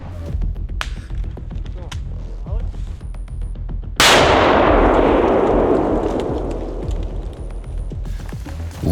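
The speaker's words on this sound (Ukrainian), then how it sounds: "Вибух і прохід відкрито." During a military forest assault training exercise, a sudden, loud explosion from a bangalore charge breaching an entrance bursts in after scattered distant shots and clatter, its roar slowly decaying over several seconds before faint sounds resume.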